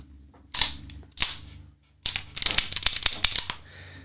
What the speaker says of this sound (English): We'll drop this mag.